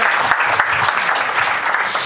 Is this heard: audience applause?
yes